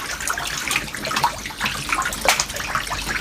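Water pours and splashes steadily while a catfish pond is drained and refilled, an irregular gushing, sloshing flow that stays close and continuous.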